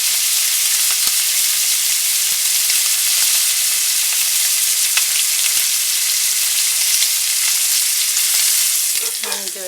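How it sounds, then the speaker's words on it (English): The fatty edge of a steak sears loudly in a cast iron skillet, giving a close, steady sizzle and spitting fry that keeps going without a break. "give it a little heat to the pan on that fatty side"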